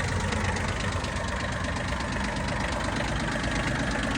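A diesel tractor engine idles steadily and loudly with a rough, knocking chug, running continuously without any voices.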